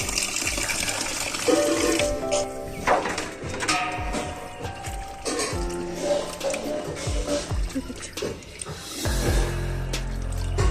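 Chopped country chicken pieces get washed in water, with continuous sloshing, splashing and squelching as hands work the meat, fairly close and busy, and a heavier slosh of water near the end.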